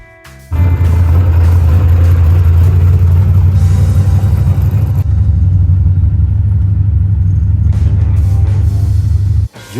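A daily-driver car pulls out of a shop and drives off, its engine starting abruptly into a loud, close, steady rumble with some revving, then cutting off near the end.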